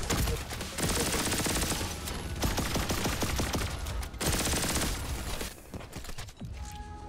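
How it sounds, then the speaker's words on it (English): Rapid assault rifle fire in the fast-paced shooter Turbo Overkill, loud continuous bursts of automatic shots with brief pauses between volleys, close and dominant throughout. "It's like an assault rifle now, that's kind of cool."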